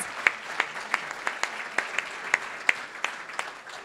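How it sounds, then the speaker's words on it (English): A small luncheon audience at a chamber of commerce 50th anniversary gives sparse, scattered applause, a dozen or so distinct claps spaced out over a few seconds, fairly faint and thin rather than a full ovation. "give them a big round of applause"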